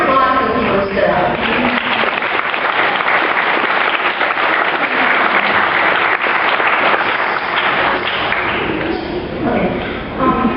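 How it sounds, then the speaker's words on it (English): Applause in a chapel for people who stood up, loud dense clapping from a sizable crowd filling the whole stretch, with voices faintly audible beneath and a slight dip toward the end. "I think round of applause for the people who stood up"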